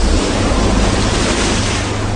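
Ocean waves and wind at sea form a loud, unbroken roar of surf and gusts with no distinct breaks, close and enveloping, with no voices.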